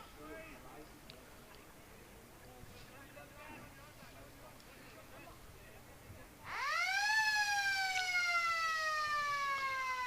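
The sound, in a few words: siren signalling half-time at Australian football match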